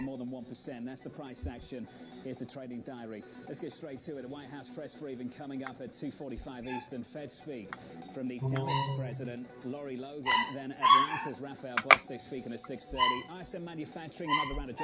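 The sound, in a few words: dog barking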